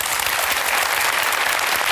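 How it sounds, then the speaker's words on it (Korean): A talk concert audience breaks into dense, even applause, a thick continuous wash of clapping from many hands at close range with no break. "박수 한번 랜덤으로 주세요"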